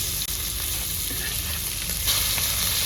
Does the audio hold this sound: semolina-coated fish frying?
yes